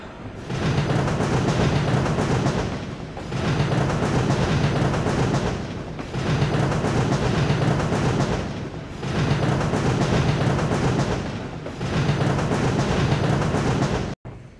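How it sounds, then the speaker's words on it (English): A Rio Grande narrow gauge passenger train pulls out of Chama, New Mexico, in Trainz 2009, a steady loud chuffing rumble broken into even bursts that fade and return over and over. "Here we see the eastbound passenger train leaving Chama, New Mexico."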